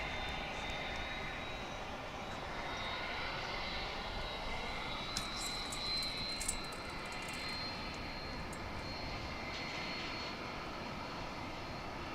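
An older jet airliner roars steadily at DFW International Airport, a broad, distant engine rumble that holds level throughout, with a few faint ticks and rattles nearby.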